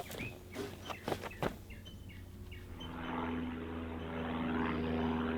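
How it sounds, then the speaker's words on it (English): A steady engine drone builds as an airplane passes overhead on Catalina Island, California, with birds chirping and calling early on before the rumble swells. "we observed planes soaring overhead"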